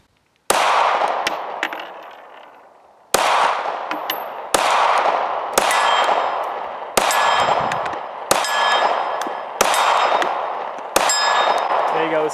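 An M&P Shield 9mm pistol fires eight rounds at a steel gong outdoors, each sharp shot followed by a ringing metallic clang, spaced one to two seconds apart and loud.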